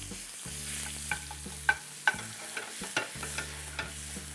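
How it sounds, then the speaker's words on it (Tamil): Finely chopped garlic fries in hot oil with popped mustard seeds, a close sizzle broken by sharp crackles and spattering pops at irregular intervals, over a low steady hum, with no talk. "கடுகு பொரிஞ்ச உடனே ஒரு 10-15 பல்லு பூண்டு இது மாதிரி ஃபைனாக சாப் பண்ணி வச்சிங்க."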